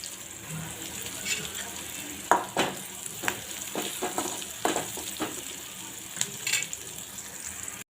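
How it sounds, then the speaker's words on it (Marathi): Onion and curry leaves frying in a pan for baingan bharta, with a steady soft sizzle and a few sharp clatters of stirring scattered throughout, moderately loud and close, with no talking. "कांदा छान आपल्याला शिजवून घ्यायचा आहे। यातच आपण कढीपत्ता घालून घेऊ।"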